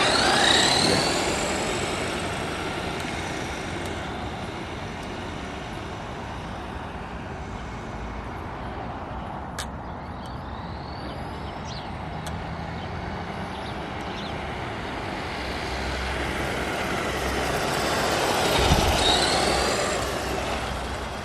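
A brushed Ramraider RC car running on a NiMH battery accelerates close by. Its motor makes a steady, broad whirring rush with a brief whine partway through, then swells louder near the end, with no voices.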